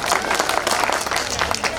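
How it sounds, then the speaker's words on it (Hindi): Brief burst of audience applause at a Hindi stand-up comedy show, dense clapping from a crowd with crowd murmur mixed in, continuous and fairly loud throughout. "जोरदार तालियां हो जाए उनके लिए एक बार।"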